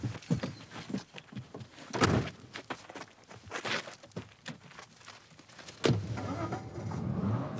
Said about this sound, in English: The car drove off at speed.